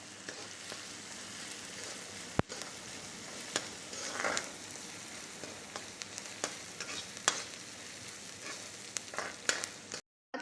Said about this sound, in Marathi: तीन 4 मिनिटं आपण हे चांगलं परतून घेतलेलं आहे।